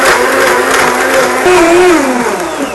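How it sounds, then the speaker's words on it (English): A BlendTec blender whirring as it blends almonds with water into almond milk, a loud, steady motor drone whose pitch rises and dips as the load shifts, running throughout with no talk. "I'm throwing it in water, just like this, in my BlendTech blender"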